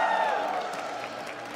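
A tournament crowd at EVO, a Granblue Fantasy Versus Rising fighting game event, applauds and cheers in a big hall, a brief burst that fades quickly under a commentator's voice.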